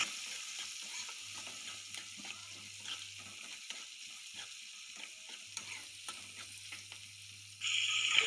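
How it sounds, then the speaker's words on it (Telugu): Onion, turmeric and curry leaves fry in oil with a steady, moderately quiet sizzle broken by scattered clicks of stirring, growing louder in the final moment. "ఒక ఆనియన్ సన్నగా కట్ చేసి ఆనియన్ తరుగు కూడా వేయండి. కొంచెం కరివేపాకు కూడా వేసి మొత్తం ఫ్రై చేయండి."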